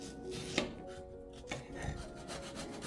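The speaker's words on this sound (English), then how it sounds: "Then carefully grate the raw mangoes and set it aside for later use" Raw mango rubbed against a grater gives soft, scratchy rasping strokes, close and fairly quiet, with a few brief pauses and no talking.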